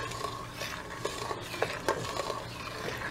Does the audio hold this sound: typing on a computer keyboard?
no